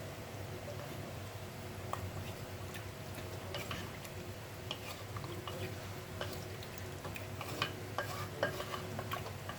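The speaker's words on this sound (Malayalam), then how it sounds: "നല്ലതുപോലെ ഇളക്കുക" Palak chicken curry is stirred in a pan, with a soft, continuous low sizzle and faint intermittent scraping and ticking of the spoon against the pan, fairly quiet and without speech.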